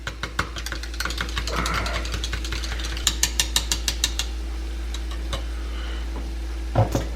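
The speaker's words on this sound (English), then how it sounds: "Whisk her around." An egg is whisked into coconut cream for liver meatballs, with quick clicking taps of a whisk against the bowl in bursts, close and fairly quiet, with no talk.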